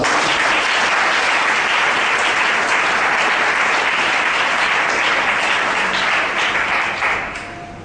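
A conference audience at a Christian leaders' gathering breaks into loud, sustained applause acclaiming the Lord, dense uniform clapping that holds steady for several seconds and then quickly fades out.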